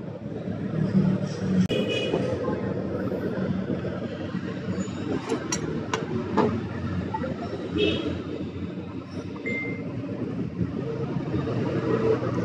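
A Chevrolet Spark engine, overheated and now needing an overhaul, runs roughly with a heavy shake, giving a steady rumble with rattling clatter throughout and occasional voices in the background.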